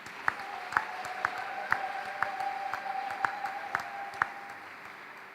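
Rhythmic clapping from the congregation at a religious wedding blessing, as the couple is asked to stand. Sharp regular claps land about every half second over a steady ringing tone, moderately loud and without talk.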